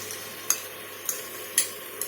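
Chicken frying in oil in a pressure cooker for biryani, with a steady sizzle and a few sharp spoon scrapes against the pot as it is stirred, fairly quiet and without talk.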